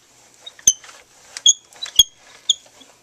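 A Big Shot die-cutting machine squeaks as plates are cranked through while a birthday card is made. Several sharp, high squeals come in an uneven rhythm, close and fairly loud.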